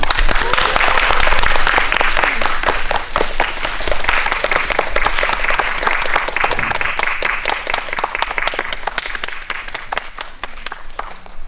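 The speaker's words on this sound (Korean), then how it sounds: "박수로 환영해주세요." A packed cinema audience applauds to welcome a film director and actors, loud, dense and sustained clapping that fills the hall and tapers slightly toward the end.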